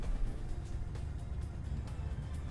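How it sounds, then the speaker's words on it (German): Low, rough engine rumble from a damaged truck in Euro Truck Simulator 2 drones steadily with faint rattling and scattered damage clicks above it, no voices, idling or cruising. "Das ist halt einfach nur der Schaden, die Schadensgeräusche."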